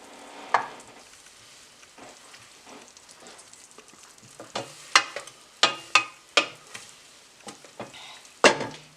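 Butter melting in a pan for pecan pie, a soft steady sizzle punctuated by sharp, repeated scraping and tapping strokes of a utensil swirling the pan, close and fairly loud.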